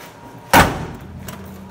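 The cab door of a 1949 Fargo truck opens with one sharp metallic clunk, followed by a fainter rattle a moment later in an otherwise quiet space.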